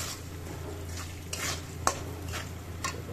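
Cumin seeds go into a pot of cooking beef and pea pulao and are stirred, giving soft scraping strokes and a faint sizzle with one sharp spoon tap against the pot.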